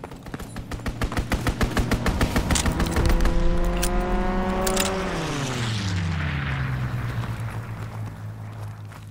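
Fighter aircraft strafing run in Call of Duty WWII: a fast, rhythmic burst of machine-gun fire as the plane roars in, followed by its engine sweeping downward in pitch as it passes and fades.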